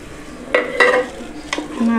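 Tomato puree is stirred into a beef bolognese meat sauce in a pan, giving a few quick spoon scrapes over a soft sizzle, close and clear.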